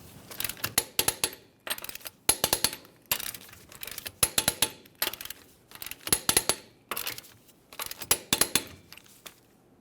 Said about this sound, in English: We'll continue on torquing these to 94 in a crisscross manner.